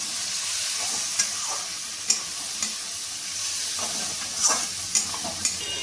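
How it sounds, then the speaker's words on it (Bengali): Cumin and coriander spice paste sizzles steadily in a pan, with scattered scraping taps of a stirring spoon rising above the constant frying hiss. "এবার আমি মশলাটাকে ভালোভাবে কষিয়ে নেব।"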